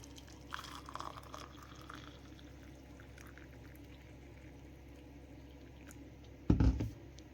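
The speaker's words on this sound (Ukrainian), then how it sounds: "І зараз залью все це водою." Water is poured into a cup over tea leaves and fresh mint sprigs, a faint trickle early on, then a brief, louder splashing pour near the end against a quiet room.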